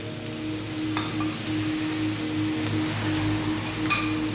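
Onions and spices frying together for Sri Lankan fish curry, a loud, continuous close sizzle like steady rain on a surface, with a few faint clicks of stirring over a low hum.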